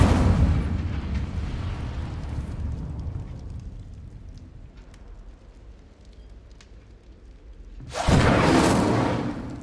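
An Incendio fire spell cast in a Hogwarts video game. A low rumbling, crackling wash fades to a quieter stretch, then a sudden loud burst of fiery roar erupts near the end and sustains.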